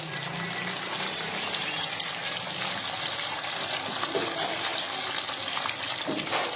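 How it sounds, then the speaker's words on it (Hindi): Crispy Lahori-style masala fish frying in oil gives a steady, dense sizzle and bubbling at an even level throughout, close and continuous, with no talking. "ये देखें माशाल्लाह ये भी फिश हमारी फ्राई हो चुकी है"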